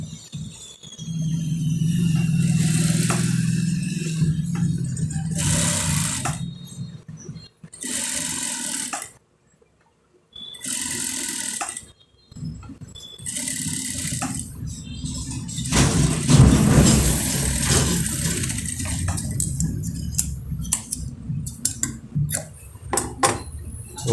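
Sewing machine stitching piping at the base of a Punjabi collar plate, running in several close bursts with short stops between them, fairly loud, with light rattling handling noises.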